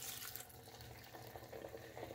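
Stir-fry sauce for beef and broccoli pours in a steady stream, splashing into a pan, close and fairly quiet, running continuously without talk.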